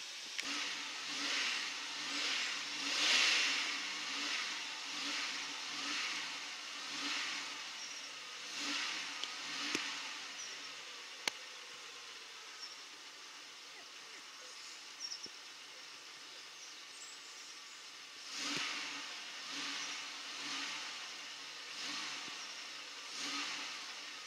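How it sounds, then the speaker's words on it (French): A car engine is blipped with the accelerator over and over, rising and falling revs in a rhythmic pattern at moderate distance, pausing in the middle before the revving resumes, with no talk. "moi je vais donner des coups d'accélérateur pour essayer de me rapprocher au plus du bruit que feront les voitures qu'on va croiser"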